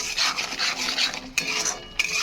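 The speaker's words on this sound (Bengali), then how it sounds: "এবার অল্প আগে মশলাটা কষাতে থাকবো।" Ground spices being stir-fried in a pan for a large pangas fish dish, a steady close scraping and clinking of a spoon against metal with a soft background sizzle and a couple of sharper knocks.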